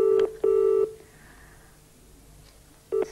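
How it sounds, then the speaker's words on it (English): Telephone ringing tone on an outgoing call, two short electronic ring pulses at the start, then a pause and another pulse beginning at the end, clear and steady with no talk. "Oh, it's ringing out."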